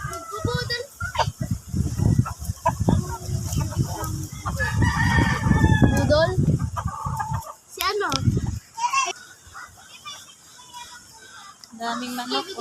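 Many chickens cluck and roosters crow repeatedly in a wooded rural setting, loud and close at first. The calls continue under people talking, then fade to quieter background clucking near the end.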